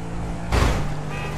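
Car engine droning in GTA V, with a brief rougher burst of road noise like a skid partway through, then a steady hum.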